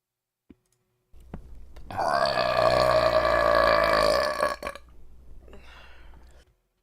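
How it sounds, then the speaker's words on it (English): A long, drawn-out, loud burp plays back from a video, sustained for a couple of seconds after a faint click and followed by quieter trailing noise. "This is going to be burping, right?"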